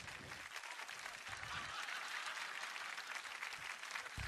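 A live audience at a mentalist's stage show claps hands together in a sustained burst of dense applause, heard at moderate distance throughout without pause.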